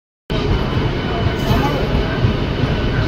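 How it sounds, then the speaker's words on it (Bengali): A train pulls into platform 1 at Tarakeswar station in West Bengal, a loud continuous rumbling roar starting abruptly and holding steady throughout, close by with no clear talk over it. "তারকেশ্বর স্টেশনে 1 নম্বর প্ল্যাটফর্মে ট্রেন ঢুকছে"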